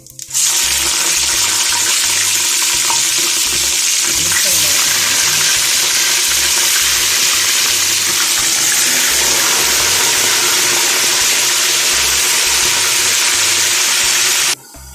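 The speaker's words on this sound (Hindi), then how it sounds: "अब मैं इसमें गोश्त डाल दूंगी।" Beef pieces frying in a hot pot for nihari, a loud, steady, close rushing sizzle that holds for the whole stretch before cutting off at the end.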